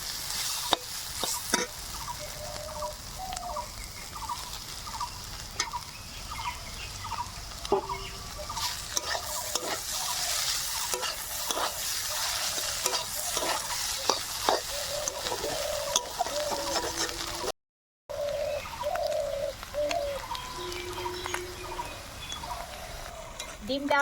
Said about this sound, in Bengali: ডিম দেওয়ার পরে আবারও কিছুক্ষণ রান্না করে নিয়েছি